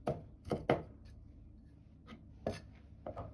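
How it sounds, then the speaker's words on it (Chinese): A knife chops smashed ginger and garlic on a cutting board, giving a handful of sharp, quiet thuds in uneven bursts with short pauses between them. "先拍破，剁碎就可以，這個不用剁得太細。"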